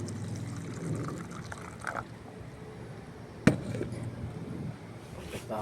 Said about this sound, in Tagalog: Bago lagyan ng panibagong tubig.